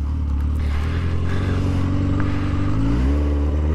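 A Kawasaki H2 drag bike engine is held at a loud, steady high idle, then rises in pitch as the throttle opens, harsh and close.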